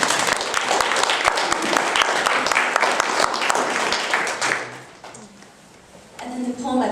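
An audience at a holiday poetry concert in San Mateo County gives a poet a sustained round of dense clapping that tapers off, followed by a voice speaking near the end.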